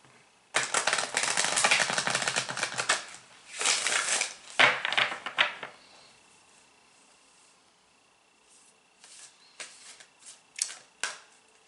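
A deck of reading cards is shuffled close up, giving bursts of rapid papery riffling and snapping, then a quieter pause before a few shorter shuffles and taps.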